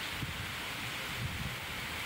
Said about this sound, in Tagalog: Kusog ning hangin.